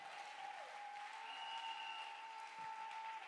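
A church congregation claps in a steady wash of applause, moderately distant and even in level, with a sustained tone ringing faintly behind it.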